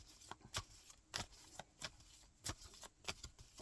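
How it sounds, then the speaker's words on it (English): A deck of playing cards is shuffled by hand in quick, crisp riffles and snaps, several bursts in succession, close and quiet with no talking. "Just 1 second, I'll give them a quick shuffle."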